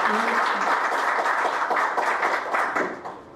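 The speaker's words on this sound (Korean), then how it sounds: "박수로 감사하겠습니다" An audience claps together at a Korean breakfast forum on smart cities, steady, dense applause that carries on for several seconds before tapering off at the end.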